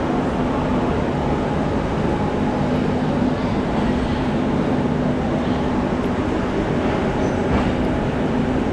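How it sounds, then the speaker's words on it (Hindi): The 130 Down Thal Express departs from platform 2 at Rawalpindi, producing a continuous heavy rail rumble with a faint steady hum underneath and no voices. "130 डाउन थाला एक्सप्रेस का डिपार्चर प्लेटफॉर्म नंबर 2 से"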